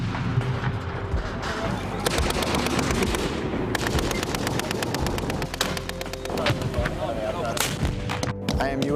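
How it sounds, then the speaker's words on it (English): Military demolition blast set off after a warning shout, followed by rapid cracking bursts and rumbling reports from near to middle distance, loud and dense, with a brief voice mixed in. "Fire in the hole!"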